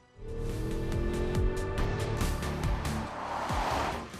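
A Porsche Cayenne GTS SUV with a 4-litre V8 drives past, its engine revving and pitch sweeping up and down, tires squealing briefly, loud and close throughout.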